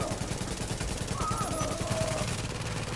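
An automated turret in Tom Clancy's The Division fires a long, rapid, unbroken burst of gunfire, loud and close, with a faint electronic tone and other game sounds layered over it.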